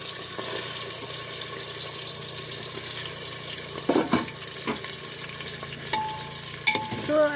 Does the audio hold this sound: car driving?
no